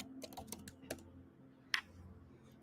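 Quick bursts of keystrokes on a computer keyboard, a handful of close clicks in the first second, a pause, then one sharp tap, with no talking.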